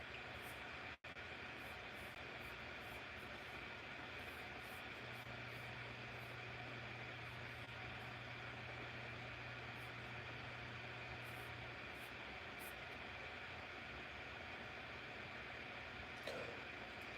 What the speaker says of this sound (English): Computer over here sounding like a jet engine.